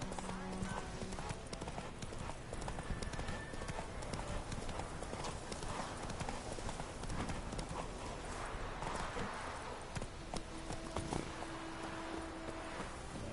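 Roach, the horse from the video game The Witcher, trots along with a steady, loud clip-clop of hooves throughout, over a busy background of rustling and game ambience, with brief speech present.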